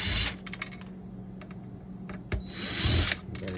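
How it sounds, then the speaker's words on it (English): Screws being worked loose from a 2012 Toyota touch-screen unit with a power screwdriver, a close, loud, continuous buzzing whir with brief stops and clicks between bursts. "want to remove these screws, pretty much everyone that you see"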